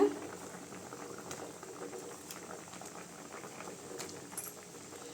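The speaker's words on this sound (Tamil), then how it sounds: "ரெண்டு நிமிஷம் கொதிக்கட்டுங்க" An egg curry (muttai kulambu) bubbles in a pot at a low simmer, soft steady burbling with occasional small pops, quiet and close.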